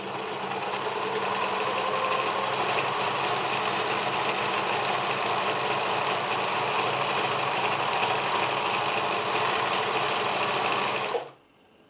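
An overlocker sewing machine stitching a seam finish runs in one steady, fast whirring drone for about eleven seconds, close and loud, then stops abruptly, with no talking.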